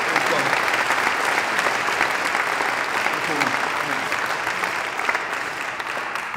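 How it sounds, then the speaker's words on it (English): Steady, sustained applause from a sizable audience, a dense wash of clapping that holds evenly throughout. "Another big round of applause."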